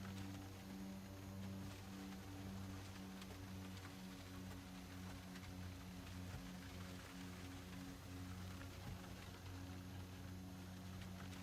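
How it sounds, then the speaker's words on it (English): Continuous rain patters steadily over a low, droning aircraft engine hum in a flight simulator game, with no voices present. "Jeez, it's rainy out here."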